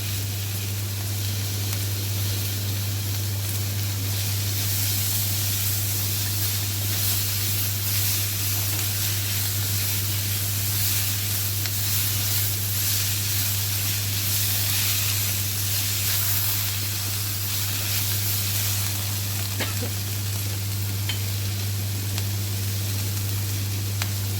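Ginger garlic paste sizzles in a hot pan while soya chilli is being cooked, giving a steady, loud hiss that barely changes in strength across the whole stretch, with no talk over it.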